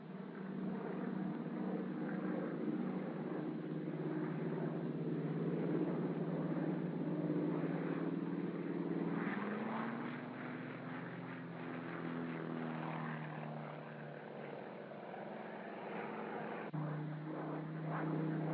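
A military aircraft's engine drones through aerobatic maneuvers such as a slow roll and an Immelman. The sound is a steady, moderately distant roar whose pitch shifts partway through and surges again near the end.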